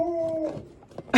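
A dog indoors whimpering at something outside, a brief high sustained whine that trails off, followed by faint shuffling and a short burst of noise.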